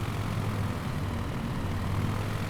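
Aircraft engine idling while taxiing in Microsoft Flight Simulator 2020, a steady low droning hum, constant and even throughout.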